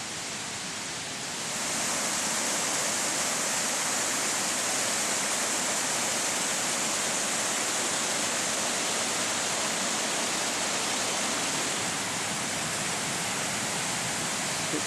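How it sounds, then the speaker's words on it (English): A waterfall and mountain stream rush down from the Mourne Mountains in a loud, steady roar of churning water that swells within the first couple of seconds and then holds without a break. "With all the water running down from the Mourne Mountains"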